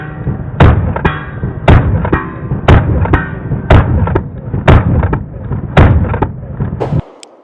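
A pistol fitted with an Atlas Titan red dot sight fires about a dozen rapid, loud, close shots at an even pace, then falls silent.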